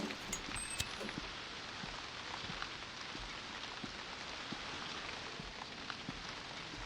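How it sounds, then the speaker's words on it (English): Steady rain falls outside a library in the horror video game White Day, a continuous even patter filling the scene with a few slightly louder drop ticks, fairly quiet and alone with no talking. "I wonder if the rain progressively changes throughout the game as well"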